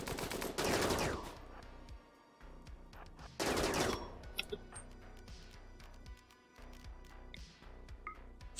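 Gunfire in the RimWorld video game: rapid machine-gun bursts crackle in two loud volleys, with scattered ticking shots in between.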